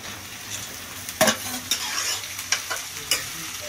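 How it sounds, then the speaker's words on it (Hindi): Long-sliced onions frying in a mustard oil tadka in a home kitchen pan, with a steady close sizzle broken by several sharp stirring scrapes and clatters. "सबसे पहले हम लोग लगाएंगे सरसों के तेल में तड़का, और उसके बाद हम डालेंगे इसमें लंबे लंबे कटे हुए प्याज"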